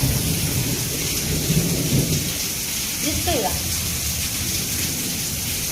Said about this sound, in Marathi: काळ ढोन दाखवते तुम्हाला पाऊस बघा कसा काय पाऊस नादच खुळा